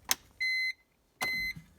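A BMW E46 has its ignition switched on, giving a short click followed by two clear electronic dashboard chimes, each a sustained tone of about a third of a second, close and alone.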